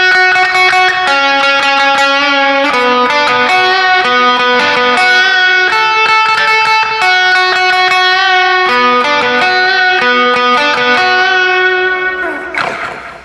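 Heavily reverbed electric guitar shaped toward a shoegaze tone through the free Nembrini amp plugin, starting from its clean A setting; sustained, washy chords ring steadily and loud throughout, swelling then tailing off near the end, with no talking.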